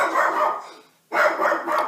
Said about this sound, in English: I got to go pause for a second and shut my dog up.